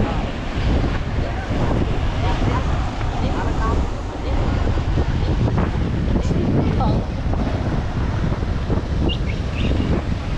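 Strong ocean waves surge and break continuously along the Siargao coast where people surf, with a steady roaring wash blended into heavy wind buffeting the microphone and voices talking nearby.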